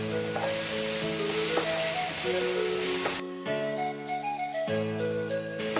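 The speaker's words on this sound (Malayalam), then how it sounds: "മീഡിയം ഫ്ലെയിമിലിട്ട് നന്നായി വഴറ്റിയെടുക്കുക" Curry leaves and mint sautéing on a medium flame, a continuous crackling sizzle with occasional stirring, heard beneath prominent background music.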